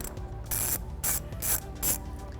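A ratchet wrench clicks in four quick bursts, close up and alone, while removing tight T25 Torx screws from a Jeep JK interior.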